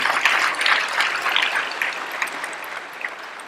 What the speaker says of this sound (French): il faut l'applaudir, Rogers Bill.